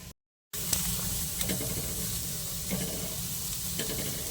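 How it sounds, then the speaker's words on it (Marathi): An onion dry-roasts on a hot griddle over low heat with no oil, sizzling and hissing steadily and close by. Occasional stirring scrapes break up the sizzle after a brief silent gap at the start. "गरम तवा करून घेतलाय त्याच्यावरती मी हा कांदा भाजून घेणार आहे"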